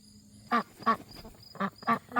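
Backyard ducks near their coop give five short, nasal quacks at uneven intervals, close and clear against a quiet background.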